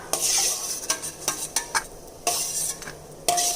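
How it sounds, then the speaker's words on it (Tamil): Cashews roasting in ghee in a pan, a metal spoon scraping and clinking against the pan in repeated strokes over a soft sizzle, close by with no talking. "முந்திரி கொஞ்சம் செவந்து வர்ற வரைக்கும் வறுத்துக்கலாங்க"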